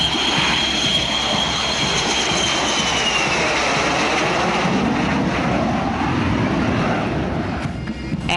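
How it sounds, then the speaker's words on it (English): A loud, sustained engine roar of Sri Lanka Air Force military aircraft and helicopters in a parade flypast overhead, broad and rushing with a slowly shifting whine, no voices heard. "Aircraft and helicopters of the Sri Lanka Air Force also carried out a flypast"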